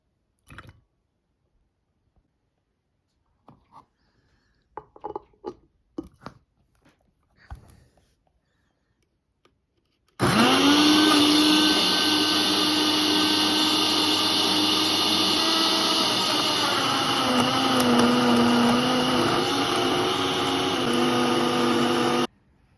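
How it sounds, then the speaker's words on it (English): A few soft clicks and knocks, then a blender blending cherries starts up and runs loud and steady, whirring continuously for over ten seconds. "So I'm going to put the cherries into the blender."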